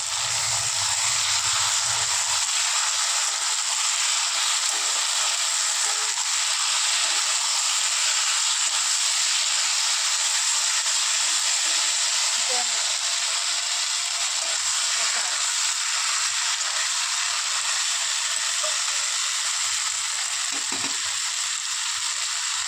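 Chicken pieces fry in a pan for chicken kosha, giving a steady, even sizzle and hiss that runs throughout, with a brief low rumble at the start and no talk over it.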